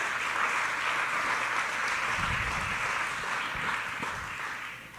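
A church congregation gives loud, sustained applause during a service, a broad continuous clapping that thins slightly toward the end, with a few low thumps mixed in.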